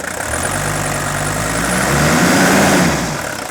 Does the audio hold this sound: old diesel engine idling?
yes